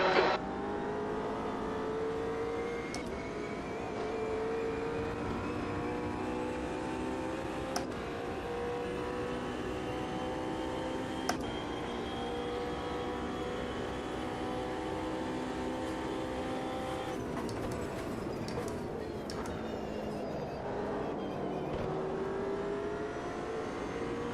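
Race car engines in the sim racing game Automobilista 2 hold a continuous, steady drone for a long stretch, shifting pitch as cars accelerate and lift, with a few sharp clicks and no talking.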